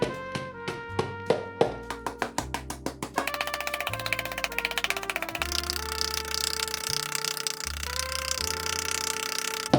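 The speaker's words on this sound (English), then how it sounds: "big wooden mallet first, just to pack it down and get the rough shape" A wooden mallet pounds an aluminum foil ball, starting with spaced, ringing blows that quicken into a rapid, continuous barrage of close, crisp strikes.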